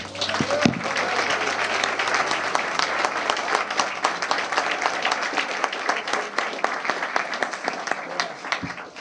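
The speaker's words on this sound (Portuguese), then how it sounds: "Podemos aplaudir ao Senhor?" A church congregation applauds together, a dense, steady wash of many hands clapping that fills the room without pause from start to finish.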